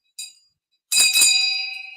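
A bell struck twice in a studio, a short light ding followed by a louder ring that sustains and slowly decays, close and alone.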